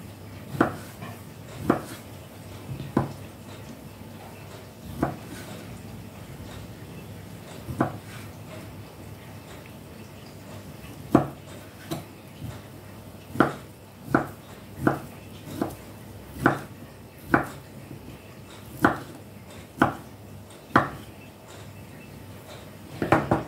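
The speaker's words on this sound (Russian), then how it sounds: "Мне нужна колбаса. Нарезаем кубиками." A knife taps steadily on a cutting board, cutting sausage into cubes, irregular sharp chops repeating close up, with no one speaking.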